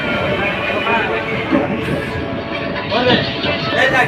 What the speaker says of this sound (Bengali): ট্রেন ছেড়ে দিয়েছে আমরা এখন ট্রেনে